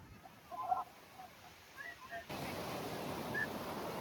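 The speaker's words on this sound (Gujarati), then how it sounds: "એ આયા મોજા" Sea waves wash onto a beach in a soft, faint surf hiss that thickens into a steady roar partway through, with a few brief higher sounds in the distance.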